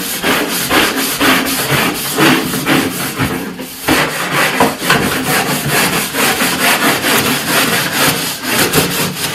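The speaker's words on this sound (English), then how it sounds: "now let's get scrubbing" Rhythmic scrubbing during household cleaning, a loud, close abrasive rubbing in steady back-and-forth strokes that continues throughout with a brief pause midway and no speech.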